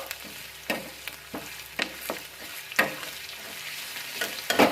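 Toor dal tempering frying in oil gives a continuous close sizzle, punctuated by repeated scraping strokes of a stirring spoon against the pan.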